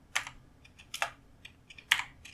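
Keys on a computer keyboard clatter in short, irregular bursts as code is typed, close and crisp against a quiet background.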